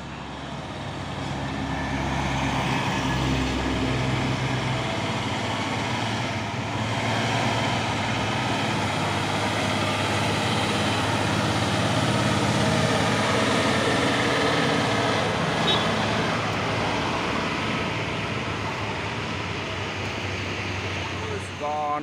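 A Hino trailer truck's engine drones steadily on the road, with a broad low rumble and wind noise holding for a long stretch as someone talks over it.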